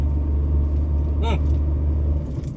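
A vehicle strains up a steep mountain road, its engine giving a steady, close, heavy rumble throughout, with a brief higher chirping tone partway through.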